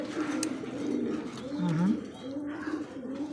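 Sky-blue double-barred Rajgolla pigeon cooing in repeated rolling phrases, fairly close and clear, with voices talking faintly in the background.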